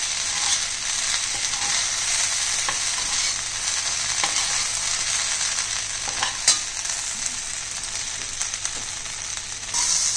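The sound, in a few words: okra stir-frying on low flame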